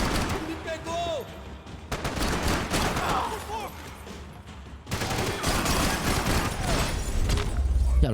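Rapid bursts of gunfire from the Max Payne 3 video game, loud and dense across the whole stretch with a brief lull in the middle, over game ambience with faint voices mixed in.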